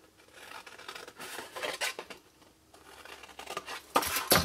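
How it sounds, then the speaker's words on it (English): Scissors cut through patterned card stock for a gingham gift box, a series of close, crisp snipping and slicing bursts in uneven rhythm with short pauses between cuts. "down at the bottom I'm cutting away that little rectangle, so that's that bit, and then cutting straight up here"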